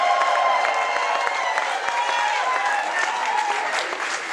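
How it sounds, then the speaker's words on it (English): A crowd at a comedy roast applauds and cheers, with continuous loud clapping and whoops throughout, all blended together at a steady level. "Round of applause, please."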